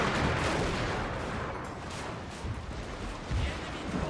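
Gatling guns in the video game Total War: Fall of the Samurai fire in a dense, continuous rattling barrage, with a few heavier bursts standing out over the steady clatter.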